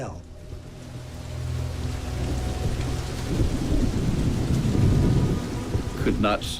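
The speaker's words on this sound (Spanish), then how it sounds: "El ruido de la lluvia, al golpear en la superficie del río" Heavy torrential rain pours steadily onto a river, a dense hiss with low rumbling underneath that grows louder toward the end.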